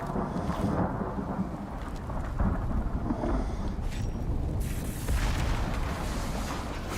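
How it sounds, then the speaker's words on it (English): Thunderstorm in the video game Icarus, with a continuous low rumbling roll of thunder and rain that swells into heavier booming cracks partway through, loud and steady throughout with no talk. "The lightning storms absolutely wreck my frame rate."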